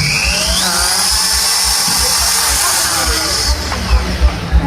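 Electric drill running at a crowded IT market stall: a loud, continuous high whine with a pulsing low rumble, holding steady before a few bumps near the end.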